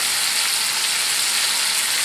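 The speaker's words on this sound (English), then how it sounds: "My oil is started for deep frying these." Frog legs deep frying in a pot of hot oil make a loud, steady, hissing sizzle that runs unbroken and close throughout, with no voices.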